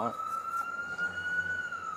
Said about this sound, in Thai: เสียงหวอ